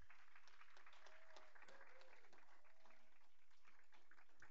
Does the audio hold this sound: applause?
yes